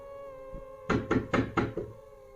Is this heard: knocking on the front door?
yes